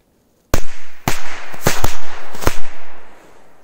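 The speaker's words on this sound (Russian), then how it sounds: "Смотрите, отлично, 5 взрывов от Fiery." Five sharp, loud explosions from a Fiery brand firecracker set in a hole in the ground crack out outdoors at uneven intervals over about two seconds, each followed by a brief rumbling tail.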